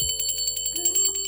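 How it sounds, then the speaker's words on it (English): A small bell rung for spirit guides during a card reading, giving a rapid run of bright, sustained metallic rings that overlap into a shimmering tone, close and clear without talking. "I'm going to ring the bell for my spirit guides"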